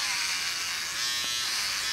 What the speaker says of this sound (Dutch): Het is een best wel klein scheerapparaat.